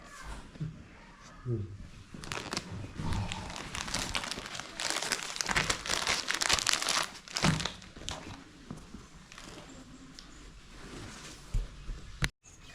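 Clothes are folded and handled in a home while packing, producing repeated rustling and crinkling fabric sounds up close in bursts, with faint voices in the background.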